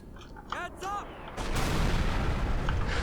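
Big missile explosions in the video game Black Mesa erupt into a loud, dense rumbling roar right after a brief moment of someone talking.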